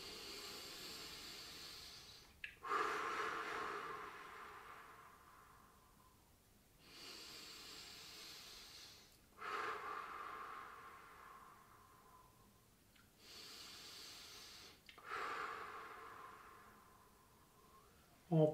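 Three long, slow breaths during a gentle neck stretch, each beginning with a sharp hissing inhale that fades gradually, quiet and close with pauses between.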